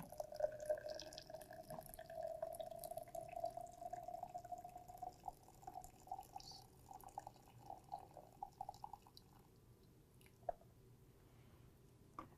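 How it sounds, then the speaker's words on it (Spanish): Hot water poured carefully into a plastic container, a steady close trickle whose pitch rises slightly as it fills, then thinning into scattered drips and small sloshes. "Vertimos el agua caliente con mucho cuidado."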